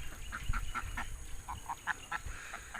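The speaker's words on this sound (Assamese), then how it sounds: "আৰু দুটা হাঁহ আহিছে" Two ducks crossing a quiet village road in the early morning give a run of short, bright quacks and honks, about a dozen calls in loose succession, close and moderately loud over faint background ambience.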